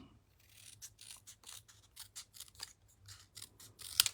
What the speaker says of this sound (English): I'll just snip my greeting